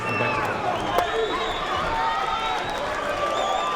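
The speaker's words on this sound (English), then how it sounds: "The crowd is hot here in Inglewood, California" A hot crowd roars steadily at a boxing match in Inglewood, California, a dense, sustained wash of cheering voices filling the arena throughout.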